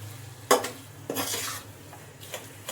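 A spoon stirs wheat flour and jaggery halwa in a pan, scraping and clinking against the metal in a few distinct strokes over a faint sizzle.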